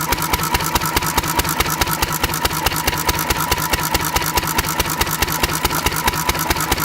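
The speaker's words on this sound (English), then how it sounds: "I'm hoping now that the engine's hot enough that the SeaFoam is going to turn into a vapor fast enough to keep it running." An engine idling on SeaFoam fuel treatment, a steady rhythmic chugging with regular low pulses that carries on evenly and loudly for the whole stretch.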